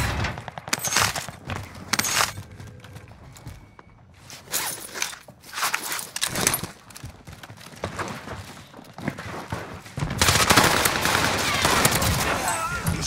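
Bursts of FAL rifle fire in Call of Duty: Warzone on Rebirth Island, sharp repeated shots spread across the clip alongside footsteps and movement, with a dense sustained volley near the end.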